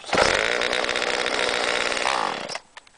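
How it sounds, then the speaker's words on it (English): A new Homelite chainsaw revs loudly and steadily for about two and a half seconds, then cuts off abruptly, leaving a few faint clicks. "I got a new chainsaw to use, and I'll give a demonstration."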